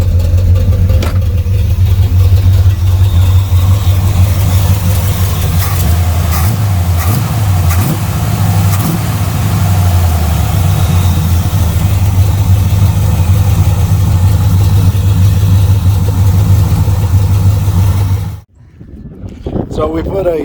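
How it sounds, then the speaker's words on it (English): A carbureted truck engine idles steadily at about 700 RPM, with a deep, even rumble close to the microphone that runs unbroken before cutting off abruptly near the end. "to get this thing to idle at about 700"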